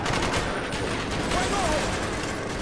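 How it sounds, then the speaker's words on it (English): Rapid gunfire bursts crackle through a Call of Duty Black Ops match, dense and close, with a voice speaking over the shooting. "I'm shooting my buddy then"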